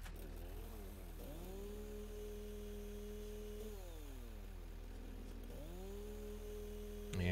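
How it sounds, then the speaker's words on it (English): A chainsaw from the game Satisfactory clears trees, its steady engine whine sliding up and down in pitch as it revs between cuts, continuous and fairly quiet throughout. "Let's pull out our trusty chainsaw."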